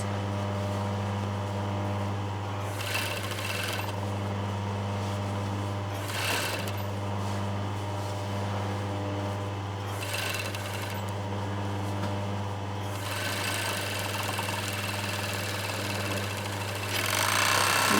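An industrial sewing machine stitches a shirt sleeve seam with a steady low motor hum and rapid needle chatter, broken by several brief louder surges and a rising burst near the end.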